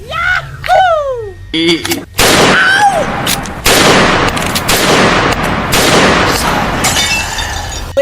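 Gunfire in a comic Bangla skit, a sustained loud barrage of rapid shots and crackling bursts following a few shouted voices at the start.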